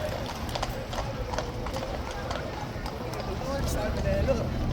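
Small pony-like horses walking on pavement, their hooves clip-clopping in a steady rhythm at moderate distance, with people talking over the hoofbeats and background street noise.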